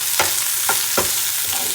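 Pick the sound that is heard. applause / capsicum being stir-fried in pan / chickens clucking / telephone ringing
capsicum being stir-fried in pan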